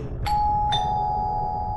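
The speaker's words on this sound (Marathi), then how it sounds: "तितक्यात दाराची बेल वाजली." Two quick electronic doorbell chimes ring close by, each note sustaining into a long ringing tone over a faint low background hum.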